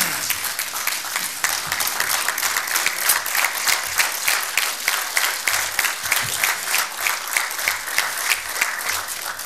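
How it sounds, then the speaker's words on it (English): Thunderous applause fills a parliament chamber at the opening of a Pan-African Parliament session, dense and steady clapping from many hands throughout, loud and close. "thunderous applause"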